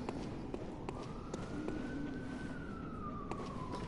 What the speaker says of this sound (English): Good old Sirens. Just always managed to find a way to get into the video.